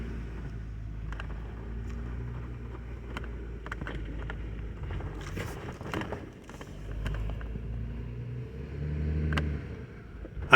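A Jeep crawls uphill over boulders in two-wheel drive on a rocky trail, its engine holding a steady low rumble with surges of revving and scattered knocks and scrapes from the rocks, close and continuous throughout.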